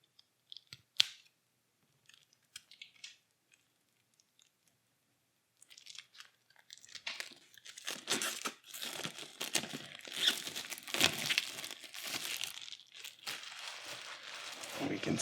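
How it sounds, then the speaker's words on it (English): A plastic-wrapped card pack for the Middara board game is opened, sparse clicks at first, then sustained loud crinkling and tearing of the plastic wrap, close up, with faint speech in places. "I think it's time for us to take a look at this card pack right here."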